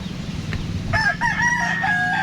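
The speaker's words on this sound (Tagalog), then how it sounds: "Tsaka silang tiktilaok." A rooster crows nearby, one drawn-out cock-a-doodle-doo rising over a low steady hum of background noise.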